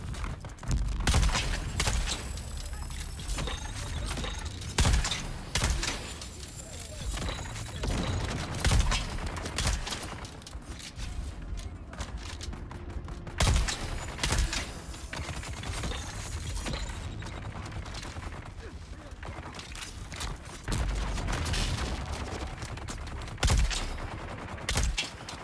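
Gunshots and mechanical clatter in the Dune video game, scattered sharp bursts and rattling over a busy background of game sounds, moderately loud, spread across the stretch.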